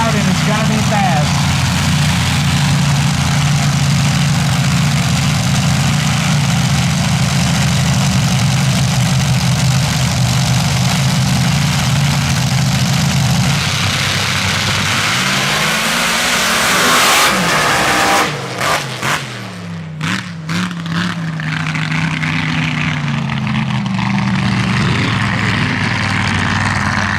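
Dirt drag racing cars, Outlaw Pro Stock and modified paddle-tire machines at Cook Station, Missouri, roar off the line in a loud, sustained engine blast that swells, then breaks into sputtering bursts as the run ends.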